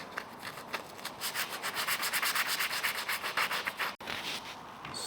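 Gel coat being sanded by hand gives a steady rhythmic rasp of back-and-forth strokes, close and fairly loud, briefly stopping near the end before resuming.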